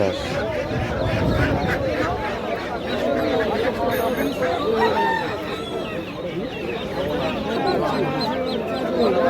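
Chickens cluck and a rooster crows amid a crowded animal and bird market at Mede Hat in Gopalnagar, where ducks and chicks are also sold; steady close-range fowl calls run throughout, mixed with bustling market chatter and voices.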